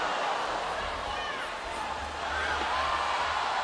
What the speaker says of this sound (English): the crowd's oohing and ahhing